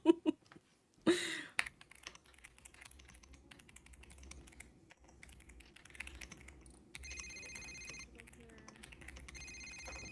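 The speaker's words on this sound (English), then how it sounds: "I can't answer this phone." An electronic telephone ringtone trills in short repeated bursts late in the clip, heard amid steady keyboard typing, rustling and a few brief voices.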